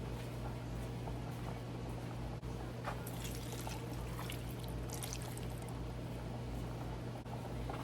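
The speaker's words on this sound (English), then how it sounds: "I'm going to get some water." Water trickles and pours steadily from a kitchen tap against a low background hum, with a few brief splashy bursts partway through.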